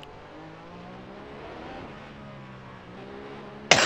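Formula race car in a racing video game on the Monaco circuit, engine holding a steady high whine with rising pitch and no talk over it, ending in a sudden loud burst.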